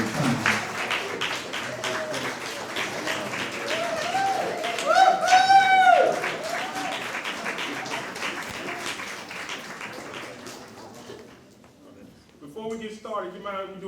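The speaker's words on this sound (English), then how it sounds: "Let's give them a round of applause as they come." A crowd at a Travis County Black History Program applauds as a school choir takes the stage, giving a sustained spread of clapping with cheers and talk over it before it fades to quieter voices.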